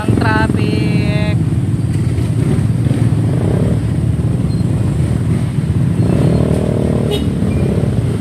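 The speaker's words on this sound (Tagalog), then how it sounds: "Ito guys yung sinasabi ko sa inyo, sobrang traffic, di ba?" Dense motorcycle traffic roars steadily nearby, engines droning together, with a couple of horn honks cutting through near the start and again later.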